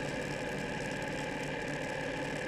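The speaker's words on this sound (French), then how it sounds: "je vais vous laisser écouter le moteur" A motorcycle engine running on a road in Mongolia, a steady, loud mechanical drone with a rough, rattling low rumble that holds without a break and no voices.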